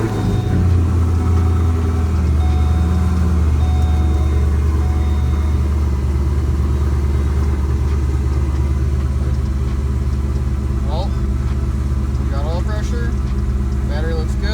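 A Pontiac G8 runs right after a new alternator install, its engine holding a steady, close, low rumbling idle for the whole stretch, with faint voices in the background.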